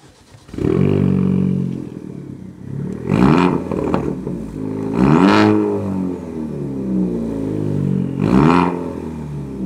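A 250 hp Ford Focus ST's engine and exhaust rev in repeated loud surges, rising and falling several times over a steady burbling idle, recorded close by.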